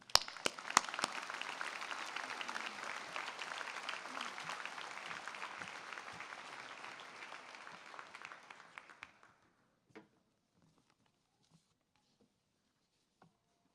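An audience at a Wharton MBA for Executives graduation ceremony in Philadelphia claps in a dense, steady round of applause for about nine seconds. It then fades out quickly, leaving a few scattered claps and quiet room noise.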